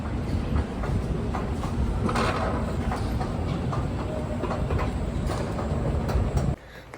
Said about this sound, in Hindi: फाइनली हम पहुंच चुके हैं ITO मेट्रो पे